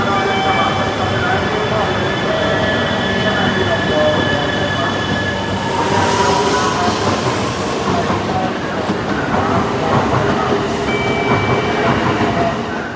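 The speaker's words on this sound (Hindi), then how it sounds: "our train was exactly on time और हमने इसे क्विकली बोर्ड कर लिया" A Shinkansen bullet train on the Tokyo to Kyoto line sits at the station, giving a steady loud rumble with faint high tones and a passing swell of hiss and squeal, while a voice talks underneath.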